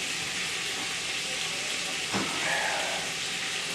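Hot and mild Italian sausage browning in a pan gives a steady, moderate sizzle and hiss with a brief rise near the end, heard without talk.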